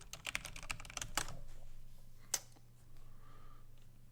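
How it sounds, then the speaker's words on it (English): Quick bursts of clacking keystrokes on a computer keyboard, close and fairly quiet, with a faint steady hum behind them and a single sharp key tap afterward. "I'm just gonna type Shane Dawson investigated."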